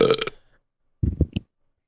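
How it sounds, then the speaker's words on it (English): A loud, close burp during a podcast recording, a rough guttural eruption of about a quarter second that trails off, followed after a pause by a short burst of speech. "Oh, it responded to the burp."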